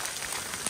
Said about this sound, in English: Oh God, the rain's coming in hot!